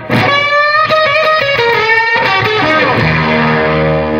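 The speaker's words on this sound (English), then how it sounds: "the next pedal is the Octavia pedal, which is really cool." An electric guitar played through an Octavia octave-fuzz effects pedal, sounding a run of distorted, harmonically rich notes followed by a held chord, loud and close with no talking.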